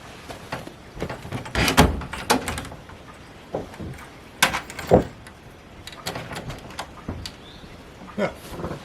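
A homemade wooden shed door is swung open and shut several times, giving sharp knocks and latch clatter spread across the span with some scraping between them, all close and moderately loud.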